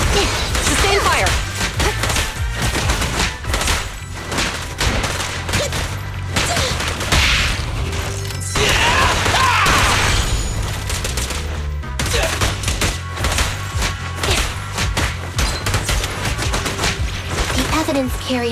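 Sustained gunfire in the video game Zenless Zone Zero, dense rapid bursts of shots and impacts layered over a music bed, loud and continuous with brief lulls.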